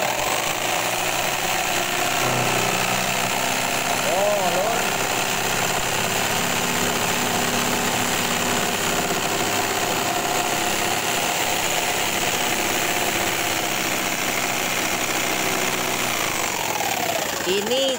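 A simple electric jigsaw cuts and carves an ACP aluminium composite panel, a loud, steady buzzing whine that runs without a break from start to finish.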